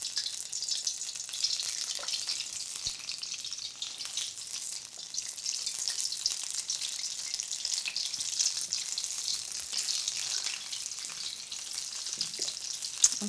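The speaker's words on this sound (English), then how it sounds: "a lot of people aren't used to frying in this way" Fish pakora sizzling in hot oil, a steady bright crackling hiss that continues evenly throughout with no talking.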